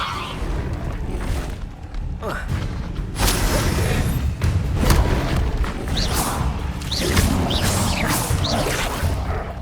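Spells cast in Hogwarts Legacy burst out in loud magical whooshes, booms and crackling blasts, one after another over a dense, continuous layer of effects.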